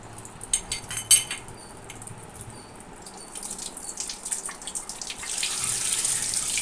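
A gas stove burner is rinsed under running tap water in a home kitchen: light metallic clinks and splashes come first, then the faucet's steady hiss of flowing water swells near the end.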